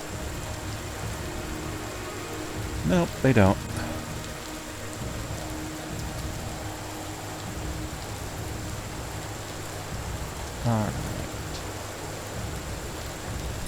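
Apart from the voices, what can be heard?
rain falling in video game Empyrion Galactic Survival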